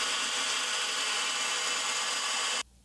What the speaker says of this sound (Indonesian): Di sini Anda bisa lihat perputaran cak yang sangat stabil untuk cak bornya.